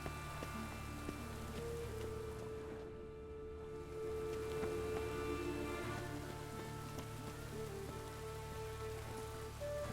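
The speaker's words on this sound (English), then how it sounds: "It just rains and rains." Steady rain falling in the video game The Witcher 3, a continuous soft patter over low ambient music, faint and unchanging throughout with no talking.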